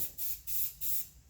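Rust-Oleum Patina flat spray paint hissing from a can onto a 1955 Dodge, in three steady bursts of about a third of a second each, close and moderately loud.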